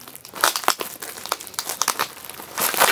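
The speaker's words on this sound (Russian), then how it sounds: "Аккуратненько освобождаем от скотча." Adhesive tape peeled and torn off the packaging of an ant-style hand expander, a dense run of close crinkling and ripping crackles with brief pauses, heard alone and fairly loud.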